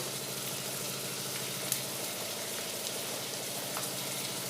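Onion, ginger, garlic and spices with salt and turmeric sizzle steadily in a pan while cooking aloo motor ghugni, a continuous soft crackling hiss at moderate level with no voices.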